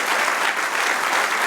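A church congregation claps for the Lord during a Spanish-language sermon, with dense, steady applause sustained throughout.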